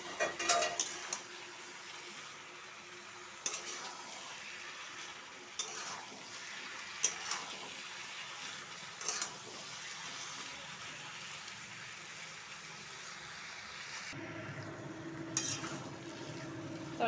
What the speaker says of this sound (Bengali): এবার তরকারিটা নেড়ে দেবো।